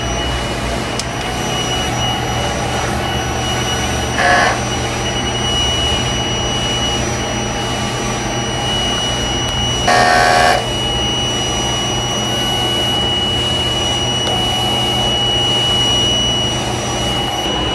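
Large format sublimation printer running a head clean cycle, a constant mechanical whir and hum with a steady high whine, broken by two brief louder bursts of pump or carriage noise.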